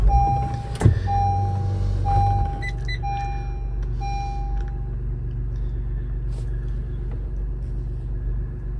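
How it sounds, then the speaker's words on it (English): A 2016-2022 Honda Pilot is started after an oil change. The ignition chime beeps in a regular pattern, a short cranking burst gives way to the engine catching, and a low, steady idle rumble carries on. "So we're gonna start the car up."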